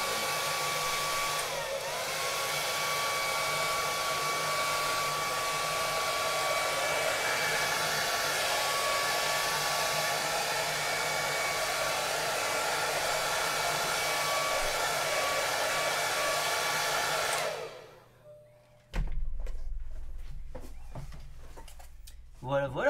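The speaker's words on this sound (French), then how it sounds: "quand je fais le sèche-cheveux qui fait du bruit maintenant" A hair dryer blows steadily and loudly to dry airbrushed camouflage paint on a Hobbytech NXT RC car body. Voices speak faintly beneath it for about eighteen seconds, then it cuts off abruptly, leaving quieter handling noises.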